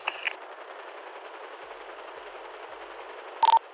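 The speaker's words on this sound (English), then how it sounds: "you've got about 10 seconds of sustained gunfire before it needs a slight cooldown" Sustained machine-gun fire from an attack helicopter in GTA roleplay, a steady unbroken rattle lasting several seconds, with a short sharper burst near the start and a louder electronic chirp at the end.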